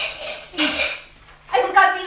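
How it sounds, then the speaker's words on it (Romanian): Dishes and cutlery clink and clatter as they are washed in a Romanian radio play, arriving in two close, bright bursts of rattling crockery. "Cred că rostul meu e să spăl vasele."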